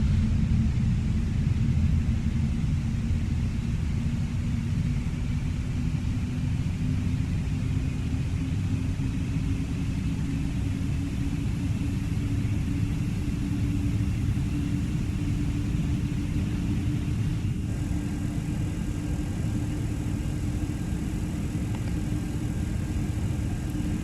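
Boeing 747 engines 3 and 4 spooling up in Microsoft Flight Simulator 2020, a steady, loud turbine drone with a slowly rising whine over low rumble, unbroken for over twenty seconds.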